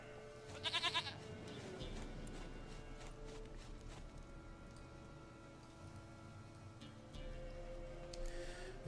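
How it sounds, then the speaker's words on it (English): A goat in The Witcher 3 lets out a short bleat near the start, followed by soft footsteps and a low ambient background, with another faint bleat-like sound near the end. "Goat of mine, dearest, sweetest goat."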